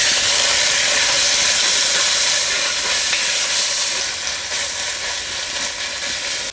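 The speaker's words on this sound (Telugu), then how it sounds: "ఇప్పుడు 2 చెంచాలు అల్లం వెల్లుల్లి పేస్ట్ వేసుకొని పచ్చివాసన పోయే వారికి కలుపుకుందాం" Ginger garlic paste fries with onions in a pan for gongura mutton biryani, giving a loud, continuous hissing sizzle close up that eases slightly toward the end.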